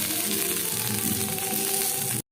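Onion and garlic frying in a pan with ginger-cumin paste, a steady dense sizzle filling the whole stretch, close and loud without pause until it cuts off abruptly at the end.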